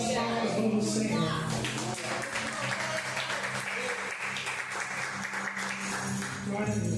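A church congregation at a Portuguese-language service applauding for the Lord, with sustained, even clapping throughout and a voice and other sound running underneath.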